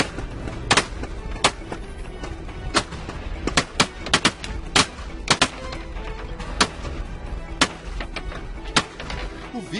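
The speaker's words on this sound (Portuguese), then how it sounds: "Mais tiros." Sharp gunshots ring out during a Federal Highway Police chase of a gang that robbed a bus, a dozen or so irregular cracks, some close and loud, others fainter, over steady road and engine noise.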